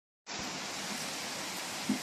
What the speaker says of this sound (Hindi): तो अभी बारिश हो रही है